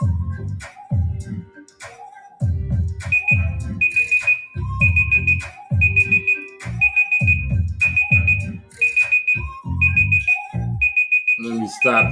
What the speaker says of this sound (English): Let me stop this timer real quick.